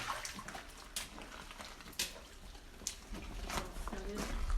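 Water drips and trickles through an old flooded mine adit, a wet splashy flow close by with sharp drips and splats rising out of it now and then.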